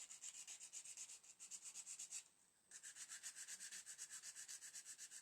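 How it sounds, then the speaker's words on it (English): A sanding stick files down a small part for a U96 U-boat model's anchor windlass motor, fast regular back-and-forth rubbing strokes, close and fairly quiet, pausing briefly midway before resuming at the same brisk rhythm. "again, just a quick file down with a sanding stick."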